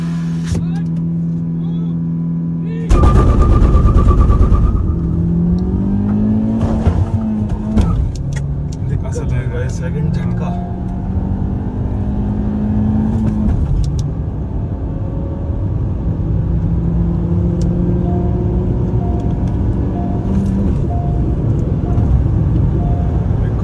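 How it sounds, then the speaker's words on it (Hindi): A Kia Seltos and a Hyundai Creta run a first-round drag race. Engine roar surges in after a quiet start and climbs through rising gear pulls with a brief shift dip. People talk excitedly over the sustained acceleration. "देखते हैं क्या रहता है भाई रिजल्ट फर्स्ट राउंड का"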